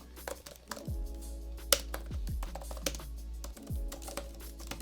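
Quick, uneven keystrokes tapping on a Logitech tablet keyboard, close and moderately loud, with a few sharper clicks and a low hum underneath.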